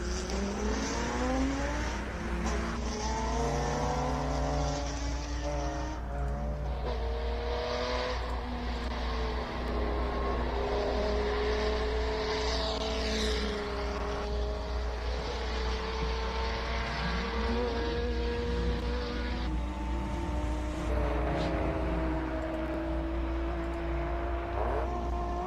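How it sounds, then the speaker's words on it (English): A classic Datsun race car climbs the Simola Hillclimb. Its engine note rises and falls through gear changes over a constant low rumble, moving from distant to nearer and back, with no voices over it. "Just listen to this Datsun."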